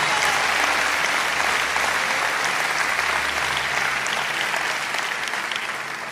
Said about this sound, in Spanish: Cuánto aplauden fuerte a Jesús.